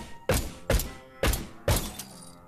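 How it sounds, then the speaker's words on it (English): Revolver fired at targets on a shooting range in a video game, four sharp shots spaced unevenly, each a punchy thump with a short ringing tail, with no voices. "We got this little shooting range where you can shoot things."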